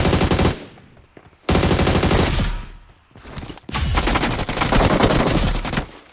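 Heavy automatic gunfire during a drop shot in a solo-versus-squad shooter video game, loud and close, coming in three long rapid bursts separated by brief lulls.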